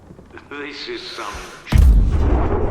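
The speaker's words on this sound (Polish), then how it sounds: "wyeliminujemy ich jednym strzałem z darpy" A DARPA sniper rifle fires a single heavy, booming shot in the video game Sniper Ghost Warrior. Someone speaks just before the shot, and a rumbling tail follows the blast.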